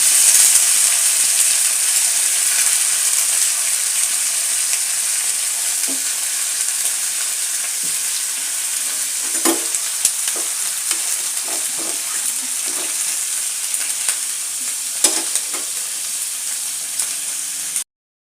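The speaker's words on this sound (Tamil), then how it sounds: "கத்திரிக்காய் இருக்கும் இல்லையா அதை போட்டு நல்லா எண்ணெயில் போட்டு ஃப்ரை பண்ணணும்" Steady, close sizzling of eggplant frying in hot oil, with occasional crackles and stirring clicks, continuous throughout and no voices.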